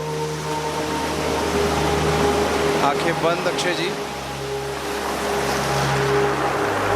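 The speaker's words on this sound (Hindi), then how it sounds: "समुद्र की लहरों को" Ocean waves wash steadily onto a seashore as a continuous soft roar, with a calm voice speaking over it throughout.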